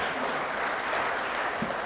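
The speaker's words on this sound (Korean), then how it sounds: "여러분 박수로 한번 환영해 주시면 고맙겠습니다" Audience applause welcomes a newly appointed honorary governor of Chungbuk at an economic forum, a steady, dense wash of clapping from a crowd that runs unbroken throughout.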